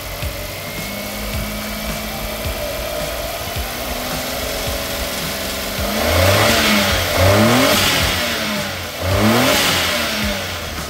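Turbocharged engine of a DA17V van, automatic 4x2, idling then revved several times to around 2000 RPM, each rise and fall clearly heard up close with a steady underlying hum.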